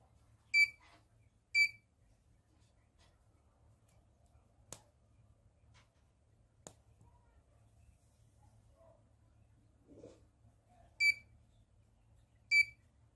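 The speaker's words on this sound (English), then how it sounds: "Then the buzzer starts alarming with the flashing LED." An Arduino smoke and gas detector with an MQ2 sensor sounds its buzzer alarm: four short, sharp high beeps, a pair near the start and a pair near the end, over a quiet hum and a few faint clicks.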